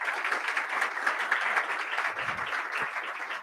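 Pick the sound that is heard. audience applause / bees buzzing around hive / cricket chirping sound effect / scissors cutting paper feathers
audience applause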